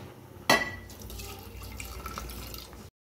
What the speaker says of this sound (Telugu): తగినంత వాటర్ పోసుకున్నామండి.